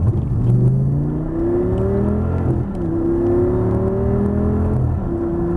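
A car accelerates hard on a race track, its engine pitch climbing in repeated rising sweeps that dip briefly as it shifts gears, loud and steady throughout with no talking.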